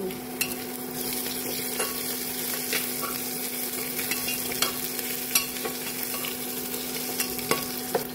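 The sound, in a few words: onion, ginger and garlic frying and stirred in pan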